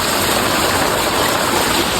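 Heavy rainwater rushing and gushing during a strong downpour, a loud, steady, unbroken wash of water noise close by with no voices.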